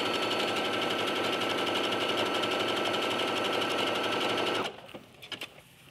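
Sewing machine stitches a knit flounce in a steady, rapid close-up whir that runs unbroken for several seconds, then cuts off into a few soft handling taps.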